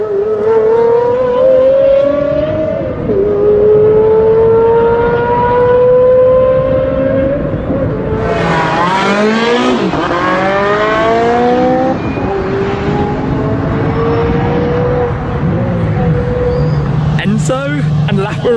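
A Ferrari Enzo and a LaFerrari hypercar run a drag race, loud engines rising in pitch through gear changes, one roaring past near the end with a sharp burst, while a commentator talks over much of it.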